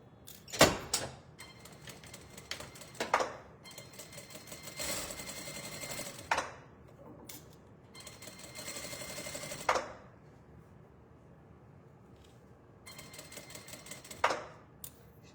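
A sewing machine stitches a seam on a modified Harlem garment pattern, running in several bursts of rapid, even whirring separated by short pauses, fairly close and with no talk over it.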